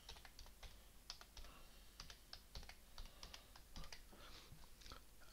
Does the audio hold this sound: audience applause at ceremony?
no